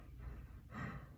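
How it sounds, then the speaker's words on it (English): Anime character Naruto breathing hard, two heavy, close breaths, gasping inhales and exhales in quick succession. "My man's breathing hard as hell."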